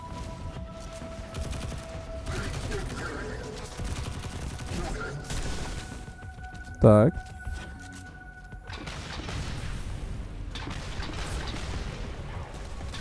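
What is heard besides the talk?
gunfire in the video game Destiny 2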